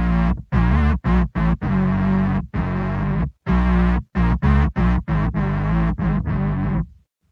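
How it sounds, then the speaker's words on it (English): A beatboxed bass voice runs through a filtered distortion effect. It comes as a string of buzzy, gritty low pulses in short choppy bursts with brief gaps, loud and up close, and then cuts off. "Those are most of my basses. I'm just applying a kind of filtered distortion to that"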